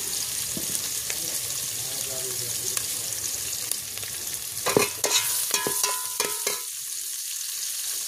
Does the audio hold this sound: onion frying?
yes